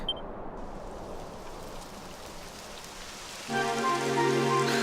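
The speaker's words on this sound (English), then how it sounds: "It would have to go and start raining." Rain falling in Dragon Quest XI, a steady hiss of drops on surfaces that grows heavier partway through, joined by a sustained low tonal layer near the end.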